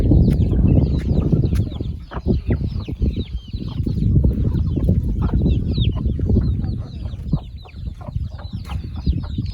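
Local village chickens cluck and chatter continuously up close, a busy flock of overlapping clucks and short calls with no talk.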